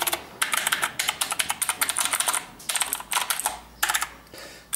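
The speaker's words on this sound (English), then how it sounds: "So yeah, that's what the keys sound like." Rapid typing on a Havit Gamenote RGB mechanical gaming keyboard, close and crisp, with bursts of clacking keystrokes broken by short pauses.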